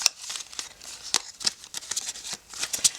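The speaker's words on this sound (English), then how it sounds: "Let's shuffle your cards." Tarot cards are shuffled by hand in quick bursts of crisp riffling and flicking, close and distinct, with short pauses between the snaps.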